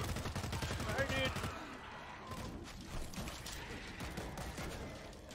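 Video game gunfire in World War Z, a dense, loud burst of rapid shots up front that gives way to scattered clattering mechanical shots and rattles, with voices talking over the action.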